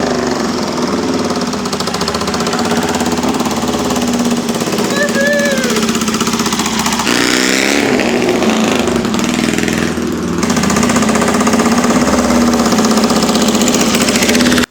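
A loud motorbike engine runs close by on a half-sized Ranalah wheeling machine, a steady throbbing drone with a brief dip in the middle, and a voice briefly heard over it.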